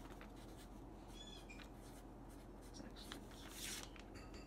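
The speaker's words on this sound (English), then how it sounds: "I'll write that out." A pen scratches across paper by hand in a quiet room, a faint, steady scribbling texture with small strokes and pauses and no speech over it.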